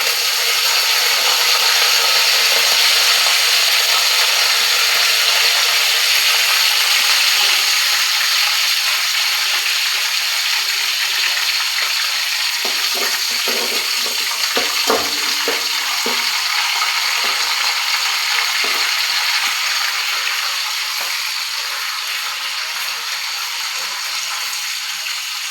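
Cumin seeds and curry leaves fry in hot oil, giving a steady, close hiss that goes on throughout, with a few brief clatters from stirring midway.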